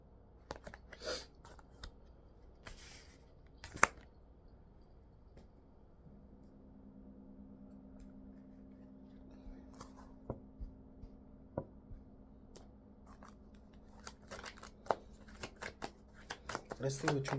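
Cards are shuffled close up in short, crisp bursts of flicking and snapping, scattered through the stretch and under a faint background hum, with a voice speaking quietly at times.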